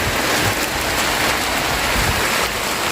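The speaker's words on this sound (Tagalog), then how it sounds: "Hindi na yan ulan kasi binuhos na po ngayon." Heavy rain pouring down in a dense, steady roar with no letup and no voices.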